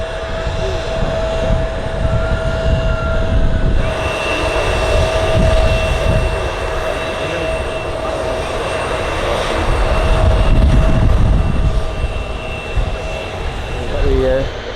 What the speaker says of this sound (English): Turkish A330 on its way to Istanbul